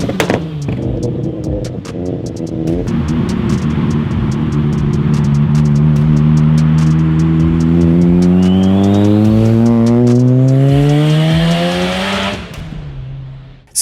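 A loud, close rotary engine revs hard, climbing in pitch through the gears with a raspy, buzzing tone before cutting off abruptly.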